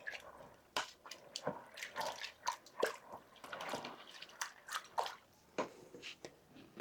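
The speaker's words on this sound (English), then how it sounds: "I want to give all that a good stir." A spoon stirs bean and bacon soup with beef bouillon paste in a pot, giving soft wet clinks, scrapes and sloshes in an irregular rhythm, close but quiet.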